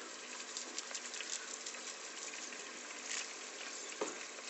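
Greens such as dill sizzle in oil in a pan while magiritsa cooks, a soft, even frying hiss with a few brief stirring clicks, fairly quiet and uninterrupted.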